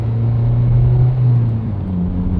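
An 8th gen Honda Civic with a short shifter fitted, on a test drive: a steady low engine drone and road rumble from inside the cabin, holding an even tone throughout.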